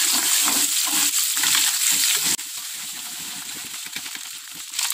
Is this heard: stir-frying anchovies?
yes